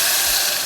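Rice and water hitting a hot pot, a loud, steady hiss of sizzling steam lasting under a second with no other sound.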